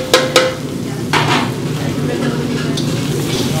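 Capsicum, onion and tomato fry in a pan for a restaurant-style rice bath, giving a steady close sizzle with a few stirring scrapes at the start.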